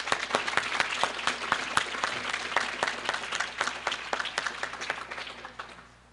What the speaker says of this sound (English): let's give one more round of applause before we head to lunch